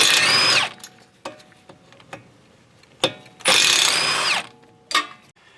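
Two loud bursts of a power tool, likely an impact driver, spin the 13mm caliper bracket bolts off the rear brakes of a 2020-or-later Nissan Sentra, each lasting about a second, with faint clicks and clinks of handling between them.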